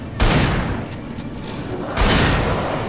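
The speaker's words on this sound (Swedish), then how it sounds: "Den var mycket snabbare på att skjuta upprepade skott än den andra." Two heavy, booming gunshots from the horror action game Alan Wake, set in a coal mine forest, land close and loud almost two seconds apart, each trailing off in a long echoing decay.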